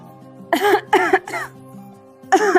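A sick person in a rural Haryanvi family drama coughs harshly, with three quick cough bursts, a short pause, then another cough, close and loud with no talk.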